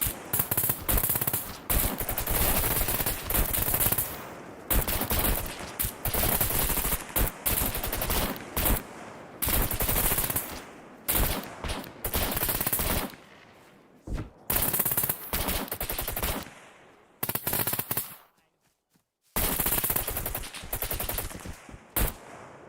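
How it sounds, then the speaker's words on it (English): NPC gunfire in the video game SCUM, with sustained loud automatic bursts and rapid shots filling most of the stretch, broken by brief pauses and one near-silent gap. "What I'm testing here is how many of them shoot each other."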